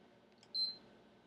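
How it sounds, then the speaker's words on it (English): A single short, high electronic beep from a PlayStation 3 power button, close and clean, against near silence. "You're going to hear a beep"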